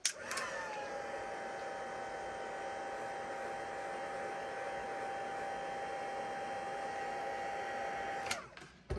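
A heat tool blows steadily for about eight seconds while drying watercolour paint on a card. It gives a continuous whirring hum with a fixed whine and stops abruptly near the end, with no talk.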